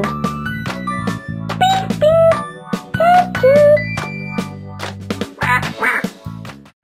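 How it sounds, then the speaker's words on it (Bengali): A mother duck quacking near a pond, a series of loud, close nasal quacks in quick bursts with a few short pauses, and no talking. "মা পাতিহাঁস 3টে ছানাকে নিয়ে পুকুরে সাঁতার দিচ্ছিল"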